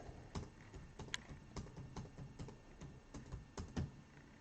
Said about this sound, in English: So I'll just be simply typing in 1 through 10, hitting random once